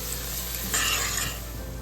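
Green chilies, chopped cilantro and mint leaves being stirred into a pot of mutton biryani, a soft steady scraping over a faint sizzle, with a brief louder swish partway through.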